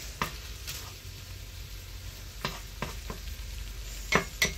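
Frozen meat cooking in a home frying pan, giving a low steady sizzle with a few sharp clinks and scrapes of a utensil stirring against the pan.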